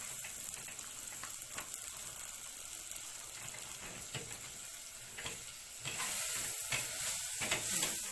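Grated, drained onions fry in two spoons of ghee and a little oil, a steady close sizzle with occasional stirring scrapes that grows slightly louder toward the end, with no voices.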